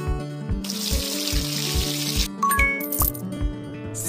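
Water runs steadily for about two seconds as a character is rinsed in a kids' cartoon spa makeover game, set over bouncy looping background music, then cuts off into bright chiming effects.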